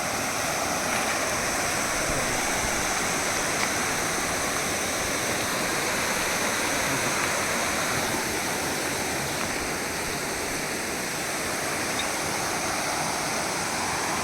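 Water pours over a village check dam in rural Telangana in a constant, loud, rushing roar that stays unchanged throughout, with no voices.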